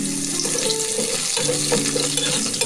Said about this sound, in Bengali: একটি কড়াই তেল গরম হয়ে গেলে ধুয়ে রাখা আলু আর পটল কড়াইয়ের মধ্যে দিয়ে দিয়েছি